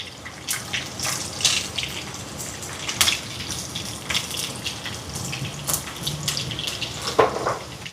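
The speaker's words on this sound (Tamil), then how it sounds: "இப்போ பாருங்க, வெங்காயம் நல்லா வதங்கிட்டு பொரிஞ்சு வருது" Small onions and garlic frying in hot oil in a pan, a steady close sizzle with fine crackling pops throughout and no talk.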